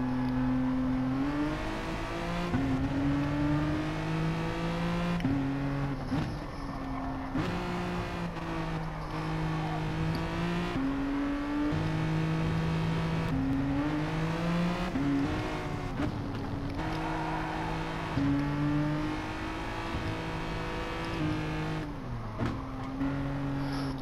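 Race car engines drone through a lap of a racing game, several cars close together with pitch rising and falling as they accelerate, shift and brake, loud and continuous throughout.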